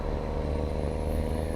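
A Mack R truck with a sound mod in Euro Truck Simulator drones steadily, a deep continuous engine rumble with a faint high whine above, even and unbroken throughout, with no talk.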